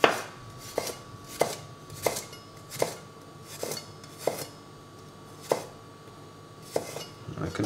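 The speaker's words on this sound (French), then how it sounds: "Donc vous venez ciseler très finement" Onion and garlic being finely chopped with a knife on a board, about a dozen sharp, evenly spaced knocks close by, with a faint steady hum beneath and no talking.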